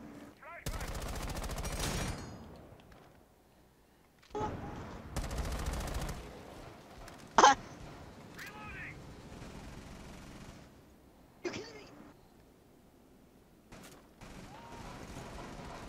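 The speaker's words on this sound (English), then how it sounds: "I shot her." Gunfire in Rainbow Six Siege ranked play: loud automatic bursts near the start and middle, then a sharp single shot and scattered quieter shots, with players talking in between.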